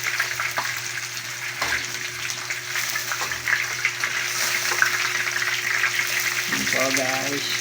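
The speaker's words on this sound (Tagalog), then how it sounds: "Paliguan natin siya ng mantika. Kumukulo ng mantika." Crispy pata pork leg frying in boiling oil, a steady loud sizzle and crackle that runs throughout, with a brief voice near the end.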